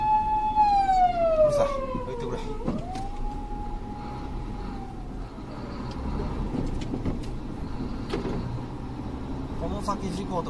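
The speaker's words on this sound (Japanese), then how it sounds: "インターから乗ってきたらあかんのかいな、パトカー。" A police car siren wails on a Japanese expressway near a traffic jam, a clear rising and falling tone that fades as the car moves away, heard from inside a vehicle with someone speaking over it.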